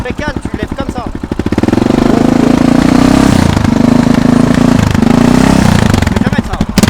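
A motorcycle engine revs up from a rough idle into a sustained loud roar, then drops back and surges again, close by.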